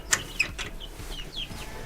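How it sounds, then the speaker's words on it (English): Chicks give a few short, high peeps close by, a couple of brief chirps near the start and softer ones later, over faint background noise. "Happy little chicks."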